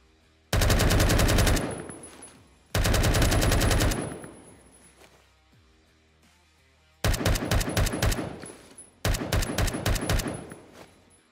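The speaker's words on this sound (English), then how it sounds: "I will do a quick firing test so you can hear what the SCARL-L sounds like." SCAR-L rifle in the Phantom Forces video game, two long full-auto bursts followed by two quicker strings of semi-automatic shots, loud and sharp with short silences between groups.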